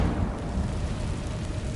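An Incendio fire spell exploding in Hogwarts Legacy, a brief, loud, roaring burst of flame that fills the whole moment without any voice.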